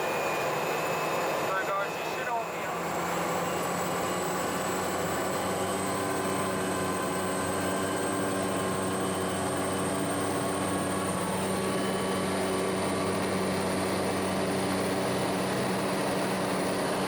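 A Cessna Caravan propeller plane roars steadily at Queenstown Airport, a constant loud drone of engine and propeller heard from the cockpit with a faintly rising whine as it takes off.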